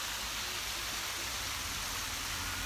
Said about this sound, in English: It'd be nice to just listen to running water all day.